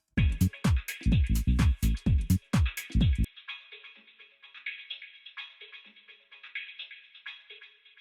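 A rhythmic run of punchy, chopped vocoded chord stabs following a drum loop's rhythm pulses in a drum-like pattern, then gives way to a quieter, airy synth texture with softer rhythmic flickers.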